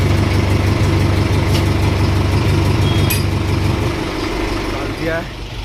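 A Mahindra tractor engine idles nearby with a steady low rumble that softens slightly toward the end, while people talk over it.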